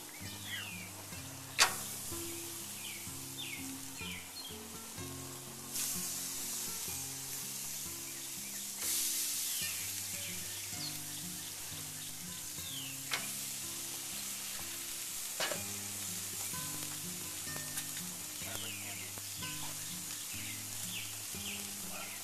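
Korean BBQ pork sizzles steadily on a grill, a continuous bright hiss and crackle with a faint repeating tonal pattern and a few sharp pops, no voices.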